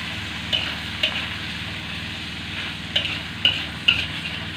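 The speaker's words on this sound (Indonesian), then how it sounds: "Kita aduk-aduk lagi." A utensil stirs Lokan clams with bitter melon and petai in a wok over a low steady sizzle, with five sharp scraping clacks spaced irregularly across the clip.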